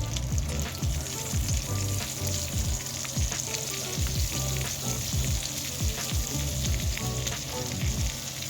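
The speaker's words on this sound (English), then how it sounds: "let's get the bacon going" Bacon sizzles and crackles steadily in a hot pan on a homestead kitchen stove, a dense continuous frying hiss with occasional louder pops, with no talking.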